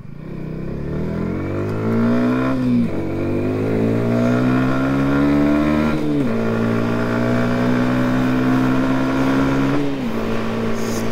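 A Yamaha MT 125 motorcycle is ridden with its engine loud and close, rising through the gears in steady revving climbs broken by brief dips at each shift.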